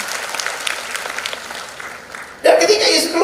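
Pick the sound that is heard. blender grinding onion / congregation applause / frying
congregation applause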